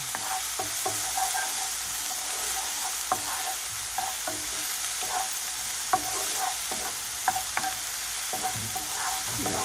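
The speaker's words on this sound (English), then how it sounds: "You don't want to saute these for about a minute, just to they become slightly translucent." Vegetables sauté in a pan over medium heat, giving a steady soft sizzle with scattered clicks and scrapes of stirring, close and fairly quiet, no talking.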